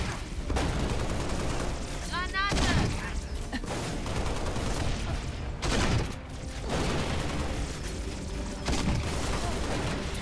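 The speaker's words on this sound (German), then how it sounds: "das ist ein Granatwerfer" A grenade launcher fires in the video game Halo Reach amid a busy firefight, with several sharp blasts and thumps spread across the stretch, loud and dense over constant background noise.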